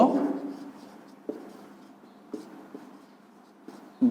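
Pen writing on paper during an accounting lesson, soft continuous scratching with a few light taps, close and moderately quiet, starting under a brief voice.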